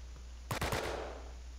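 A short burst of rapid gunfire from another player rings out in the video game Last Man Standing, with several quick shots in a fraction of a second and then a fading tail.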